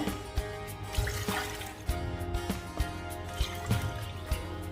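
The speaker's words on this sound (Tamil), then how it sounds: "3 கப் பால் ஊற்றிட்டேன்." Milk pours into a pan for a milk pudding with a close, steady trickle and scattered drips and splashes, and no voices over it.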